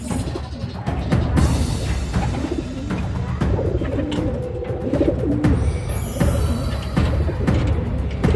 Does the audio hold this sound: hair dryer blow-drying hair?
no